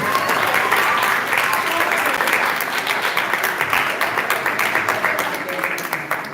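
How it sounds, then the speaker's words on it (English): School audience at a Shark Tank Juniors student pitch event applauds loudly, a dense sustained clapping crowd that loosens into more distinct claps as it fades toward the end. "have a clap for all of you"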